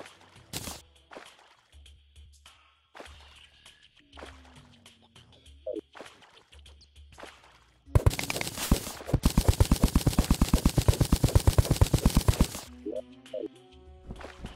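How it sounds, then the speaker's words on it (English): Rocket launcher firing in Terraria, a sustained burst of rapid, evenly spaced loud shots lasting several seconds after quieter scattered game sounds and clicks. "Rocket launcher. That's the one I was trying to think of."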